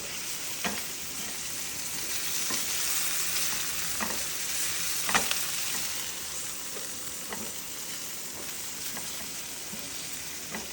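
Cashews frying in a pan for garlic kaju noodles, a continuous close sizzle with a hissing crackle, broken by several sharp scraping clicks of stirring spaced across the stretch.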